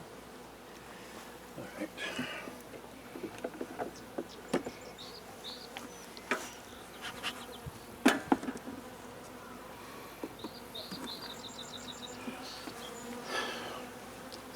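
Honey bees at an open hive, a continuous close buzzing drone with scattered wooden knocks and clicks from the hive parts, and a brief spoken remark partway through.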